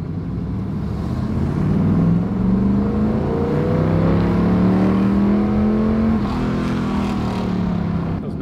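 A first-generation Camaro with a carbureted engine revs and pulls steadily while cruising around the block, a close, continuous engine drone that rises and falls through the gears.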